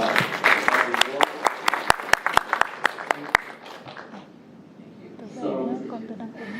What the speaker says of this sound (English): So let's applause again and give our reward.